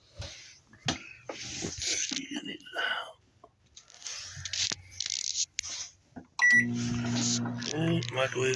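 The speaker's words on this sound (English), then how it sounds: "Okay, microwave's on." A microwave oven draws 1300 watts from a CNswipower inverter during a full-load test. Clattering handling noises and a person talking come first, then the oven starts with a loud, steady hum that continues to the end.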